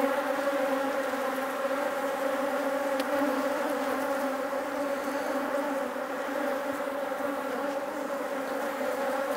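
Honey bees hum steadily at a hive frame loaded with incoming pollen, a dense, even drone of many wings close by with no pauses and no voices.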